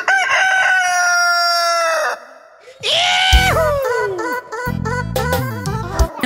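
Rooster crowing loudly and close, two long crows with harmonic calls, followed by further clucking and squawking sounds from the bird.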